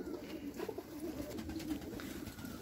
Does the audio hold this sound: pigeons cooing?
yes